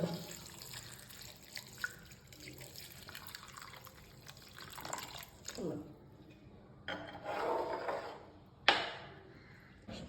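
Water poured from a tap or vessel over ripe mangoes in a cooking pot, a close, steady running splash in several bursts that swell and stop, with faint background noise.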